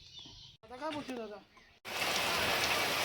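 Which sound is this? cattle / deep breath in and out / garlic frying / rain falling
rain falling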